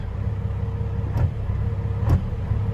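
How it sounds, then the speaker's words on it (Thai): A truck engine held at a raised idle of about 600 rpm drones steadily and close, with two short sharp knocks or clicks over the low rumble. "อันนี้ผมเร่งคันเร่งเอาไว้นะ อันนี้ อันนี้คือตั้งตั้งเอาไว้ ดูที่ตั้งรอบ อันนี้คือผมไปตั้งไว้ประมาณหกหกร้อย"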